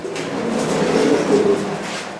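Pigeons coo on a pigeon farm in a soft, rolling, repeated murmur. The birds sound close and moderately loud, and no one speaks.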